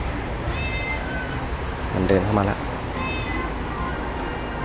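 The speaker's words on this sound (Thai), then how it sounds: "แมวแมวแมวแมว มันเดินเข้ามาแล้ว" A cat meows a few times while walking closer, the calls sounding close and clear over constant outdoor background noise, with someone talking in the surrounding moments.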